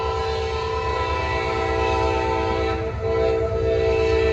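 A heavy Norfolk Southern freight train sounds a long, sustained horn chord near the tracks in Gaffney, South Carolina, the loud blast holding steady over the low rumble of the moving train.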